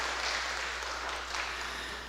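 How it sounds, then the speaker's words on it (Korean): A church congregation claps together at a Korean Methodist Sunday afternoon service, a soft, steady wash of applause that fades slightly toward the end. "우리에게 표를 주신 주님께 다시 한번 박수합시다."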